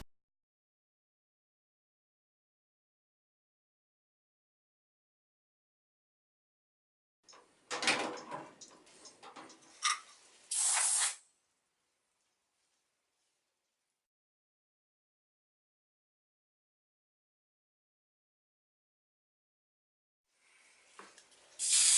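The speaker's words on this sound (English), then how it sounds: "my spray can is starting to feel kinda empty" A spray can sprays varnish onto wood slices in short close bursts: a hissing spray around the middle, a second spurt just after, then another starting at the very end, with silence between.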